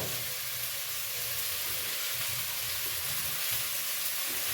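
Small fish frying with spices and tomato hiss and sizzle steadily as water hits the hot pan, a continuous close, even crackle with no talking.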